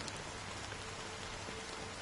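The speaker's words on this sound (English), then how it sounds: "But it's still raining." Steady rain falls across a scene in the video game Honkai Star Rail, a dense, even patter that holds at a constant level throughout with no voices.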